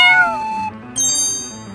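A cartoon kitten gives two high, drawn-out meows, one after the other, loud and up close, with no talk over them.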